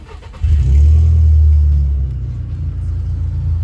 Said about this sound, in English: when I start up the car